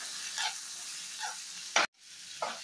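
Tomatoes cooking in a pan with turmeric and salt for an Andhra pachadi, a faint sizzle with a few soft stirring scrapes and one sharp clatter near the end.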